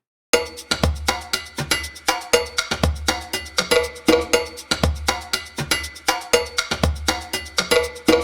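A looping Afro house percussion pattern with repeated metallic, cowbell-like hits over a low thumping pulse, steady and rhythmic throughout.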